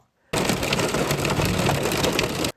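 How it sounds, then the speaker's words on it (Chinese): Hail pelting the body of a taxi during a heavy storm, a dense continuous clatter heard from inside the car that starts abruptly, stays loud and even for about two seconds, then cuts off. "整个车身呢被冰雹打得啪啪作响"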